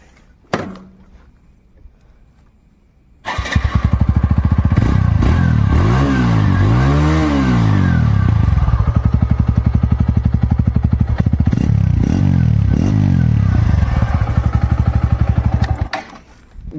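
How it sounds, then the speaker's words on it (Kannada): A TVS Radeon motorcycle engine starts after a brief quiet thunk, then runs loud and close with repeated revving swells and steady idle stretches, ending abruptly. "ಗಾಡಿ ಸೌಂಡ್ ಮಾತ್ರ ಸಾಲಿಡ್ ಆಗಿದೆ ಗುರು."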